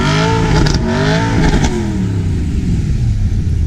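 A V8 car engine revs up with a rising, throaty roar, loud and close, then settles into a steady rumbling drone.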